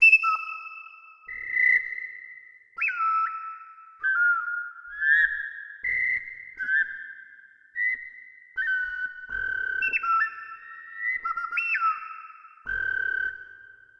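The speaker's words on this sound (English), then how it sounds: "Here's bird whistle number 1." A bird whistle from the Quetzal sample library plays a series of clear, pure tones, about a dozen short warbling phrases with pitch slides and jumps, separated by brief silences, alone and close.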